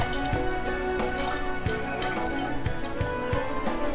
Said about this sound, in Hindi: मैं ये दाल ऐड कर रही हूँ इसमें।